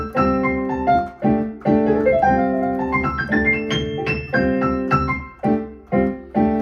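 Jazz piano playing a modal lick, with fourth chords in the left hand under a right-hand run, bright chord stabs and a quick ascending figure, close and solo.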